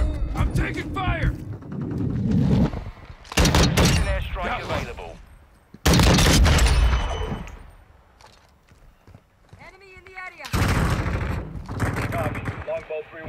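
Gunfire in Call of Duty Modern Warfare II, with rapid automatic bursts and sharp shots in loud clusters amid battle noise and radio-style voices, close and intense with quieter gaps.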